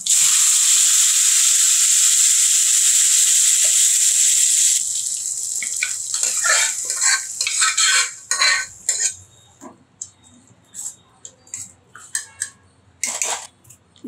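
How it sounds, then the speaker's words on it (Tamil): Mustard seeds, urad dal, dried red chillies and curry leaves hit hot oil for a radish kootu, giving a loud steady sizzle for about five seconds, then fading into scattered crackles and the clink of a spoon stirring in the pan. "கொஞ்சம் எண்ணெய், உளுந்து கடுகு போட்டு தாளித்து சேர்த்துடலாம்"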